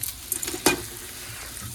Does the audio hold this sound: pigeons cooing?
no